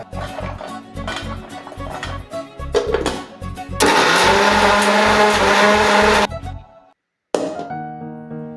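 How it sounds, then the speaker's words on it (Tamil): A kitchen mixer grinder churns gooseberries (amla) in its jar: choppy pulsed bursts of motor whine, then a long loud continuous grind, a sudden stop to silence, and a brief final whir. "கழுவி வச்சிருக்க நெல்லிக்காயை ஒரு மிக்சி ஜார்ல போட்டு நல்லா அரைச்சி எடுத்துக்கலாங்க"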